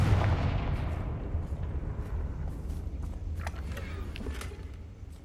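A Confringo fire spell blast during Hogwarts Legacy combat: one heavy, booming explosion opens, then its rumble slowly fades under scattered crackles and light knocks.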